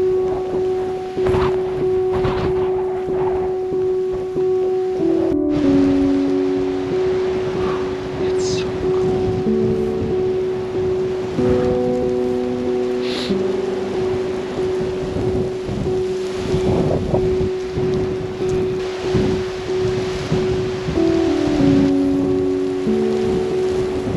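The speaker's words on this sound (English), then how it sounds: "Okay, I'm at my spot, but it's so windy" Strong blizzard wind roars steadily across open Manitoba country, a loud constant rush buffeting the microphone, threaded with shifting low moaning tones.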